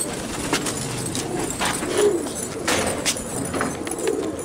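Pigeons on a rooftop loft coo steadily in a soft, continuous murmur, with a few brighter calls and faint rustles rising above the low, close chorus; no one speaks.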